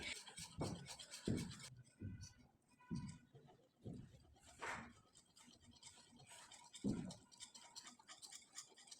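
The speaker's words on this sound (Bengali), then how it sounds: "আমি একটা চামচের সাহায্যে খুব ভালোভাবে নেড়েচেড়ে দেখিয়ে দিচ্ছি" A spoon stirs thick raw mango paste in a bowl, making close, quiet, wet scraping strokes in uneven bursts with pauses between them.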